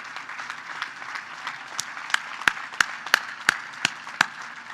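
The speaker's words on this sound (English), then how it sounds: "Let's get a round of applause for our fun and need tonight." Gala audience applauding in a hall, a sustained wash of clapping with several sharp, distinct claps standing out toward the end.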